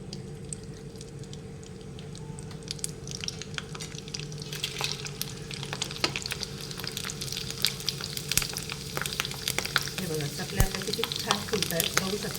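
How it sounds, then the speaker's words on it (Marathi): Green chili sabudana potato chakli fry in hot oil with a steady, continuous crackling sizzle that stays close and even throughout. "इथे आता तुम्हाला हिरवी मिरचीची मी चकली तळून दाखवते"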